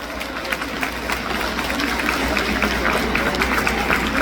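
An audience at a 2025 Daejeon social services event applauds in a dense, sustained clatter of many hands that swells slightly toward the end.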